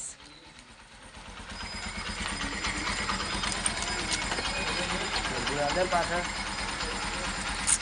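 A motorcycle engine idles nearby in a low, steady rumble that grows slightly louder and runs throughout, with voices heard faintly over it.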